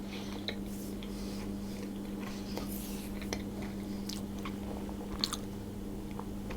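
Quiet, close chewing of a mouthful of homemade Easter bread with cranberries, raisins and cashews, soft irregular moist bites and faint clicks over a low steady background hum.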